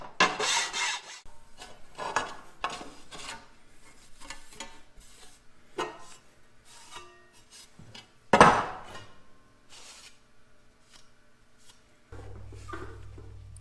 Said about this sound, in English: but you'll get good results using a file.